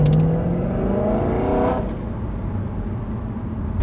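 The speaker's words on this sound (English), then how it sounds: "You can hear like all the noise coming from that side of the engine." A BMW E9x M3 with the S65 V8 and a carbon fibre intake system runs loud and close, a dense engine drone that eases down partway through with no talk over it.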